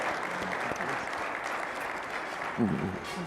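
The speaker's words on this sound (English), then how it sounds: "they go a big round of applause for these ladies and gentlemen" Steady applause from a conference audience fills the whole stretch at moderate level, a dense even wash of many hands, with a voice briefly speaking over it near the end.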